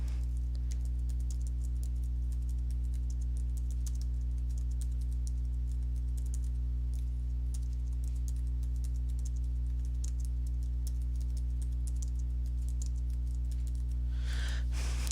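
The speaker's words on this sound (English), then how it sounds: "Okay, done typing." Rapid, irregular clicking of fingers typing on a computer keyboard over a steady low electrical hum, continuing for the whole stretch before a brief rustle at the end.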